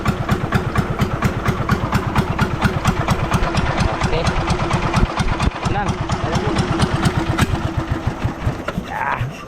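Small engine of a homemade net-hauling machine running in reverse, a loud, fast, steady chugging idle close by throughout, with someone speaking briefly over it.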